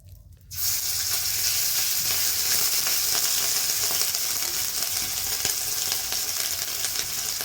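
Ginger paste hits hot tempered oil for a vegetarian carrot dish, setting off an abrupt, loud, steady sizzle after a brief quiet start, with faint metallic clicks and no talking.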